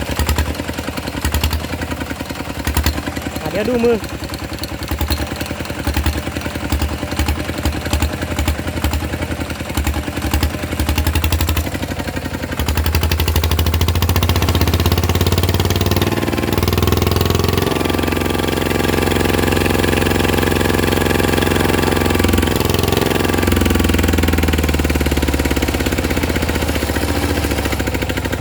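A motorcycle engine fitted with a swapped RT fuel injector clatters at a rough idle, then revs up into a sustained, louder drone that holds steady near the machine, with a brief spoken aside early on.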